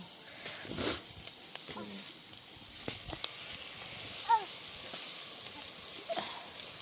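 Crushed garlic sautés in a pan for tomato rice, making a faint, soft sizzle with occasional small clinks and stirring sounds, under quiet speech.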